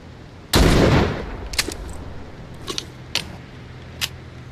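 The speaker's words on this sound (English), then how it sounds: "And one time with the shotgun." A single loud shotgun blast in The Walking Dead video game booms and decays over about half a second, followed by a few faint, short clicks and clanks of game sounds.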